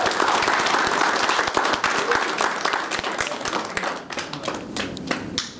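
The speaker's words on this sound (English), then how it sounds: "So let's all give one last round of applause." A youth gathering's audience gives a round of applause, dense overlapping hand claps sustained for several seconds and thinning slightly toward the end, with no talking over it.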